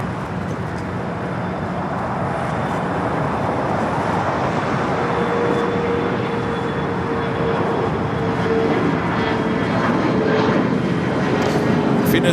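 A United Airlines jet spools up for takeoff on runway 25 right at LAX, its steady engine roar filling the whole stretch with a faint whine riding on top, loud and continuous, with a voice talking faintly underneath.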